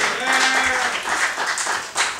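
Audience clapping for a comedy show host, a short burst of applause mixed with cheering voices, lively but brief.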